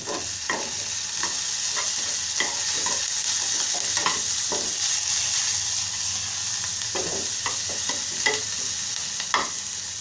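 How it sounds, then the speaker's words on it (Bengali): Onions and green chilies fry in a pan with a steady sizzle, broken by repeated scraping strokes of a stirring spoon at an uneven rhythm. "পেঁয়াজ দিয়ে দিচ্ছি, দিয়ে দিচ্ছি কাঁচামরিচ।"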